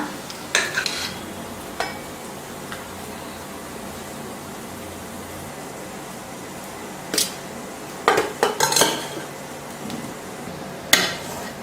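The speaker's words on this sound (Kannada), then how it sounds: "ಬನ್ನಿ, ಇವಾಗ ನಾವು ಊಟನ ಪ್ಲೇಟ್ಗೆ ಹಾಕ್ಕೊಳ್ಳೋಣ." Dishes and cutlery clinking as rice and a double roast omelette are served onto a plate, a few sharp scattered clinks over a quiet kitchen hum with no talking.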